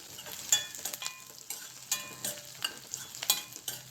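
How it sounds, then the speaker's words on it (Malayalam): Crushed garlic and small shallots drop into hot oil with spluttered mustard seeds in a pan, giving a steady close sizzle broken by spoon stirring and scraping, with no talking. "കടുക് പൊട്ടിയതിന് ശേഷം വെഞ്ഞ് വെച്ച വെളുത്തുള്ളി, ചെറിയ ഉള്ളി അതിലേക്ക് ഇട്ട്"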